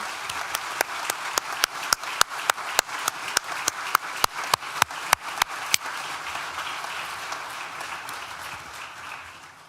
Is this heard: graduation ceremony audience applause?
yes